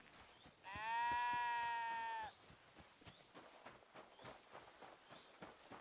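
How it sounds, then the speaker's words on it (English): A sheep in the video game Kingdom Come: Deliverance II lets out one long, loud, wavering bleat lasting about a second and a half, followed by quieter steady footsteps. "Whose sheep are these?"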